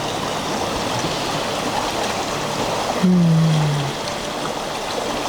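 A continuous murmuring stream of an ice-cold river rushes steadily close by, with a brief low tonal hum rising over the water midway.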